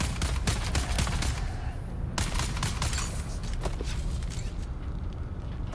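Rifle fire in the video game Dune Awakening, dense rapid shots in steady bursts with a brief pause partway through, loud and continuous over background rumble.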